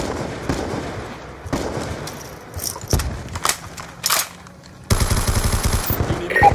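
Intense video-game shootout with rapid machine-gun bursts and scattered gunshots, loud and close, coming in uneven volleys with short pauses and a dense sustained barrage near the end.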